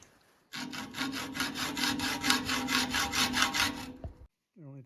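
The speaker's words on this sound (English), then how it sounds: "I'm just going to use a hacksaw. Cut it off and then clean up the burr a little bit." A hacksaw cuts through a motorcycle quick-shifter part clamped in a bench vise, producing rapid, rhythmic rasping strokes close to the microphone for a few seconds before the cut stops.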